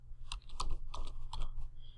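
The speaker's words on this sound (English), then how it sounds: "Type in teespring.com," Keys clatter on a computer keyboard as a web address is typed, a quick run of separate taps over a steady low hum, fairly close and with no talk.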